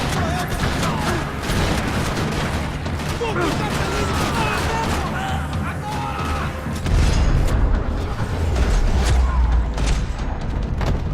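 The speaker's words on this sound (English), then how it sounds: "Another parking lot rattling with gunfire." Rapid gunfire in a parking lot in the Max Payne 3 video game, with dense overlapping shots and cracks crowding together and heavy booms toward the end, while voices are heard underneath.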